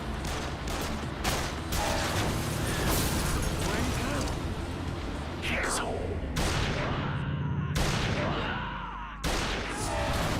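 Shotgun blasts and clattering gunfire from a Yakuza 0 fight. Sharp, heavy shots land every second or two over constant action noise, while a person talks throughout.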